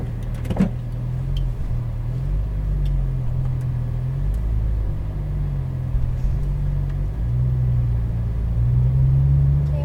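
A Porsche 911 GT3 (991) engine hums steadily from inside the cabin, rising and falling gently in pitch as the car drives a race track in Las Vegas, with low road rumble.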